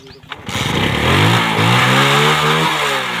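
A motorcycle kick-started and revved: a short clatter and thump of the kick, then the engine catches and climbs into a loud, wavering rev that holds steady nearby, with no talking.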